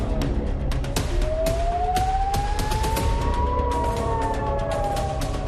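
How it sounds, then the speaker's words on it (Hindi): Air-raid sirens in Israel during Hezbollah missile attacks, rising and falling in pitch, steady and fairly loud, with sharp intermittent bangs and clatter in a noisy outdoor scene. "सायरन की आवाजें गूंज रही है"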